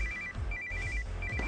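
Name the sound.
telephone ringing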